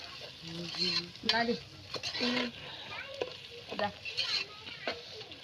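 Tomatoes sautéed and stirred in a pan while cooking kappa biryani, a tapioca dish, with soft sizzling and scraping stir strokes under intermittent voices of adults and children nearby.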